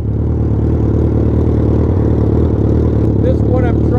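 A BMW 1000 motorcycle with a loud tuned exhaust idles close by, a steady, throbbing engine note that holds evenly throughout with no revving.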